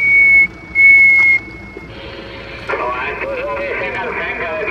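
Two steady whistle tones come through a CB radio from a mobile station, each about half a second long and evenly spaced, followed by radio hiss and someone talking over the channel.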